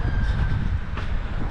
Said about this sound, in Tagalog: sasakay tayo ng Farfall na metro